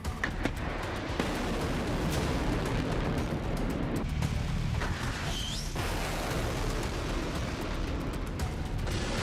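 Missile interceptions and explosions over Israel during a Houthi ballistic missile attack: a loud continuous rumble with dull booms and sharp bursts, distant and heavy, filling the whole stretch.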